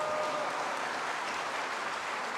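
Steady applause from a church choir festival congregation, a dense even patter of many hands clapping throughout, moderately loud and continuous.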